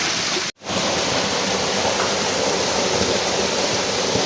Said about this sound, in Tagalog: narating na po natin ang magandang falls